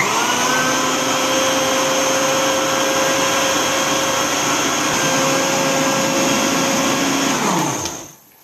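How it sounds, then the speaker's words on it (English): A kitchen blender runs at full power, blending avocado salsa verde with tomatillos, giving a loud, steady whirring motor whine that holds for about eight seconds before winding down and stopping. "So, let's blend this up."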